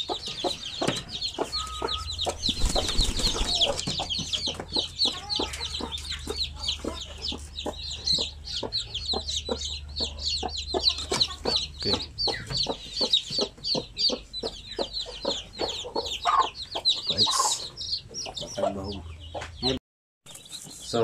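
Native chickens and hens cluck and chatter constantly at close range in a farmyard pen. Dense overlapping clucks run through the whole stretch, with a brief pause near the end.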